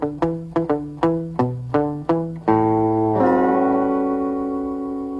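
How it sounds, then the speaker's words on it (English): Guitar lick: about eight quick plucked notes in a bouncy rhythm, then a final chord that rings out with a gentle vibrato, close and clear, with no talking. "Let me show you how I do that knuckle buster lick."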